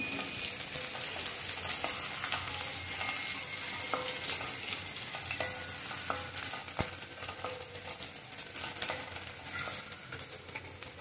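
Curry leaves sizzle and crackle in hot oil with onion while frying for shevaya upma, a steady, close hiss with scattered pops and stirring scrapes throughout.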